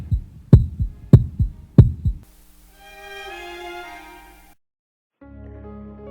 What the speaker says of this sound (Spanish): Es el latido de su horrendo corazón.